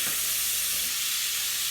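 Shrimp frying in a hot skillet, a steady loud sizzle with crackling pops throughout, heard alone without talk.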